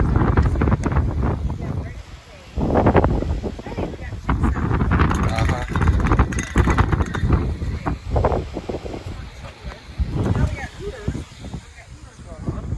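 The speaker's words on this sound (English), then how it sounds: "It's very windy." Strong gusty wind buffeting the microphone on an open rooftop, loud irregular roaring bursts with people chatting throughout.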